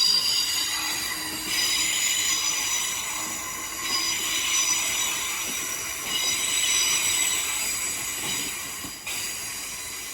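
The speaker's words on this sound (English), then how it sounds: "Now the parting is a GWR 387 bound for Didcot Parkway from the 387" A GWR Class 387 electric train departs London Paddington bound for Didcot Parkway, its wheels squealing in high, sustained tones under a steady hiss of motors and track noise, close and loud.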